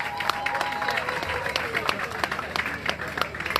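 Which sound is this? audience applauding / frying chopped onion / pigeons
audience applauding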